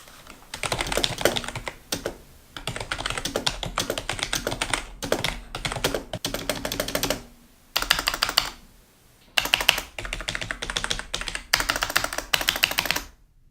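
Soft, muffled typing on a Logitech G213 membrane gaming keyboard: dense bursts of quiet key presses separated by brief pauses, close and without any voices.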